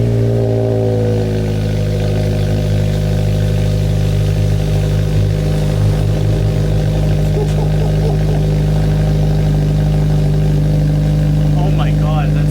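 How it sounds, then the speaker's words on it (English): A car fitted with an Injen catback exhaust idles steadily, its deep droning exhaust note rumbling loud and close throughout with slight fluctuations and no talk. "I wanted to take another clip of the exhaust note."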